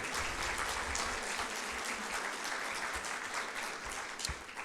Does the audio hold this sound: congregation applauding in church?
yes